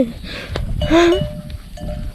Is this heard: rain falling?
no